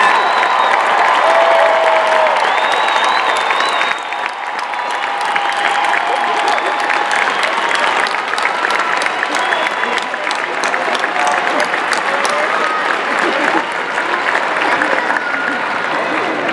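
Sustained applause and cheering from a large crowd honoring the University of Cincinnati class of 2017 graduates at commencement, steady and dense throughout with a slight dip partway.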